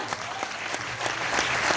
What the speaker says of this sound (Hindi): सर और मैम के लिए भी एक जोरदार तालियां